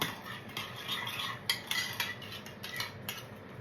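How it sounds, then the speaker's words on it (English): A utensil mixing sugar into BBQ sauce in a bowl, quiet repeated clinking and scraping strokes in a steady rhythm, with no talking. "I'll have to mix this quite a lot for the sugar to dissolve"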